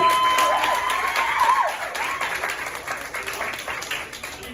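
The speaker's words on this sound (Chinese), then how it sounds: "掌声鼓励起来" Applause and clapping from an audience at a basketball youth event with a pro player, a moderate burst that thins out over a few seconds amid crowd noise and a whistle-like tone.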